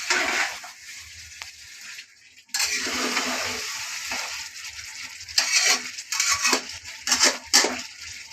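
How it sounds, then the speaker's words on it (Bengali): Aloo dum, a potato curry, cooks in a pot: a steady sizzle runs under scattered metallic clinks and scrapes of a spoon against the pot, with louder clusters of clatter near the end. "এই যে মা এখানে আলুর দম রান্না করছে।"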